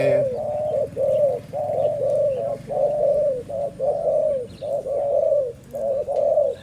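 A dove coos repeatedly in a steady rhythmic pattern, loud and close, each phrase separated by brief pauses, with no voices.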